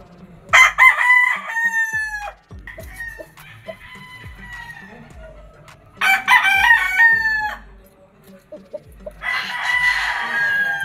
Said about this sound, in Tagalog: Gaganda ng mga manok dito.